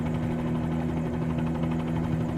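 Steady rotor drone and whine of a helicopter in a flight simulator game, with a constant low hum and strong tonal bands holding evenly throughout, no talking.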